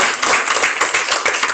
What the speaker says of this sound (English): I'd just like to single you out for a special round of applause